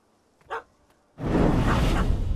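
A puppy in The Witcher 3: Hearts of Stone gives a single short bark, then a loud broad rush of wind or movement sound fills the rest of the moment.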